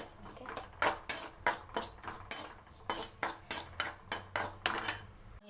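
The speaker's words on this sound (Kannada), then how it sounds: "ಸ್ವಲ್ಪ ಹಸಿ ಖಾರ ಹಾಕ್ಕೊಂಡು ಚೆನ್ನಾಗಿ ತಿರ್ಸ್ಕೋಬೇಕು ಇದನ್ನೆಲ್ಲ" A utensil scrapes and clanks against a pan while onion, tomato and green chili are stirred, a run of about fifteen sharp metallic strokes in a fairly even rhythm, close and alone.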